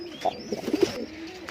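Fancy pigeons in a loft give a few soft, low coos and brief calls against a quiet background hiss, close but faint, with no talking.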